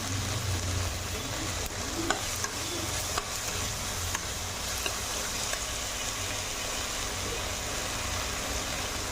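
Spices, browned onion, tomato and chili fry in a pan for a potato egg omelette curry, a steady moderate sizzle with occasional clinks of stirring, close and unaccompanied by speech.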